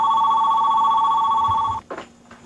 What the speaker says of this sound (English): Very exciting when the phone rings.